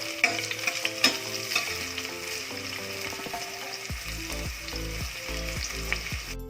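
Three cups of water hit a pan of sautéed onion and garlic, a loud steady sizzle that jumps into a harder, rushing hiss partway through, with no talk.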